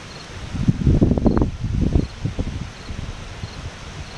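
Gusty wind from the approaching Hurricane Irene in Trumbull, Connecticut stirs leaves in rustling bursts that swell and fade over a steady outdoor background, with no talk.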